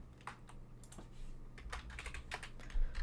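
Quick keystrokes on a computer keyboard, a dozen or so clicks in an uneven rhythm, close and fairly quiet over a low steady hum.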